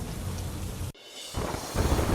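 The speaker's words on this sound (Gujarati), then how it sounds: "ઉલપાડના કીમ વિસ્તારમાં ધોધમાર વરસાદ ખાબક્યો" Torrential rain in the Kim area of Olpad, near Surat, rushes loudly in a thick roar, cuts out briefly, then returns and swells.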